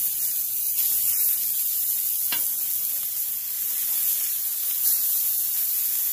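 Burger patties sizzle steadily on the grill after flipping, a constant close hiss with a faint crackle or two and no talking.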